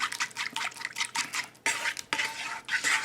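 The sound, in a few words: stirring garlic Parmesan sauce in a bowl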